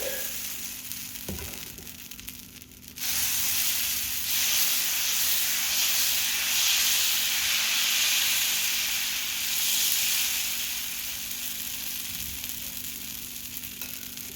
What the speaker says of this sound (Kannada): ಈಗ ನೋಡ್ರಿ, ದೋಸೆ ಸುಡಾಕತ್ತಿ ಚೆಂದಾಗ.